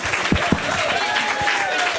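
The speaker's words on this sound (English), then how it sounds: "round of applause for Aisha." Applause from a group at an interactive board-game workshop, a brief burst of clapping with some voices and whistle-like tones mixed in.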